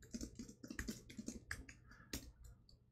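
Quick, irregular keystrokes tap on a computer keyboard, a dozen or so light clicks close to the mic at fairly low level, with no talking.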